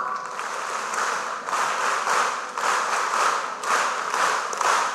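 A seated audience at a live talk bursts into steady, dense clapping for one another, a loud crowd applause that swells and dips in waves for about five seconds with no voices.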